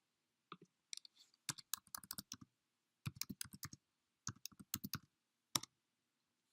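Clicky keystrokes on a computer keyboard come in quick clusters separated by short silences, crisp and close in an otherwise quiet room.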